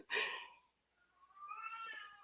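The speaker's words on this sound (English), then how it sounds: "can you guys hear my cat? He's yelling outside the door now." A cat meows loudly and insistently from behind a closed door, one long near call followed by a second, drawn-out yowl after a brief pause, with no talking.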